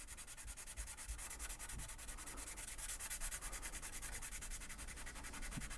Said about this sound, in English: I just got to go through and sand this